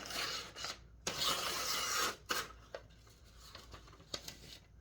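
A Gerber Prodigy fixed blade knife slicing through material in several rough, rasping strokes, loud bursts of scraping broken by short gaps and lighter scratches, with no talking.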